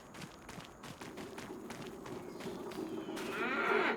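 Cows shuffle and move about in a barn in Farming Simulator 25, a soft stream of hoof thuds and rustling at moderate distance that builds gradually, ending with a brighter scraping swell.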